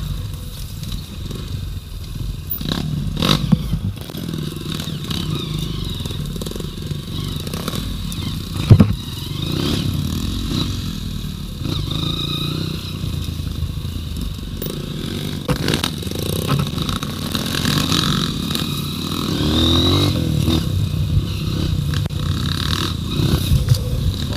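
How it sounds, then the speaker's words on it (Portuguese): A motorcycle engine drones steadily throughout on a dirt trail, revving and rumbling with clattery bumps as it bounces over rough ground; no talking. "essa moto tá jogando mesmo"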